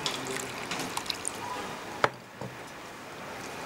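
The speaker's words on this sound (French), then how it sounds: "On va mettre l'eau." Water is poured for making coconut juice, a steady trickle and splash in a kitchen, with a small clunk partway through before the pouring continues more softly.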